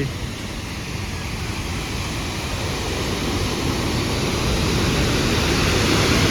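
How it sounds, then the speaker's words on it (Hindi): Loud, steady roar of a mountain river rushing over rocks near Gangotri in the Himalayas, a dense unbroken wash of water noise that swells slightly toward the end, with no voices. "देखो पानी का शोर"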